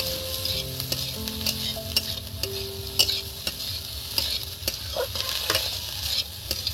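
Ration rice is fried in a pan while being stirred, giving a continuous close sizzle broken by regular sharp scrapes and clicks of the spatula, with no talking.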